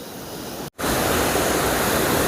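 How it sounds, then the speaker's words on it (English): Triberg Falls waterfall cascading in Germany: a loud, close, continuous roar of falling water with a brief cut partway through, and no voices. "the Triberg Falls, pretty impressive all the way up there."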